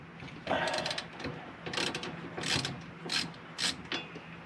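Ratcheting wrench clicks in several quick bursts while breaking loose the four bolts on a rear differential cover, close and fairly loud with short pauses between pulls.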